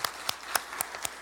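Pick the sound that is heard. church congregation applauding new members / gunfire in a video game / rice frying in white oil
church congregation applauding new members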